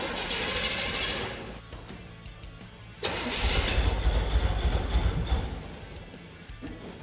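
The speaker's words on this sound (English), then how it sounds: "I'm guessing it's because we need to run the engine to get that circulating throughout the transmission." The engine of a 1954 International truck cranks, then catches with a loud burst and settles into a rough, rumbling run, heard up close.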